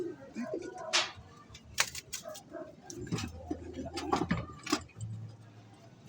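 Pigeons kept in a home loft coo in repeated low, throaty phrases, close and fairly clear, with soft rustling and light clinking in the background.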